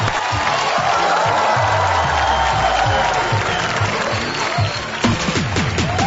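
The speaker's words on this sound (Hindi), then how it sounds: "जोरदार तालियां। समझ के लिए जोरदार तालियां।" A studio audience on a Bigg Boss 17 chat show claps loudly in a dense, continuous burst lasting several seconds, with some cheering mixed in before the clapping thins out.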